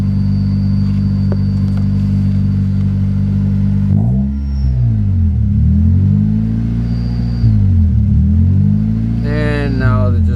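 Honda Civic EX with a D16Y8 engine, a bolt fitted, idles high with a steady close engine drone that starts to wobble and surge, while a thin belt squeal rises near the end.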